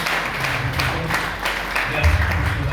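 Audience applause breaks out at the closing of a workshop in Kalemie, a moderate patter of clapping heard partly under a speaking voice.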